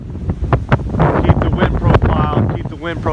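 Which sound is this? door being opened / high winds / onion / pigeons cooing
high winds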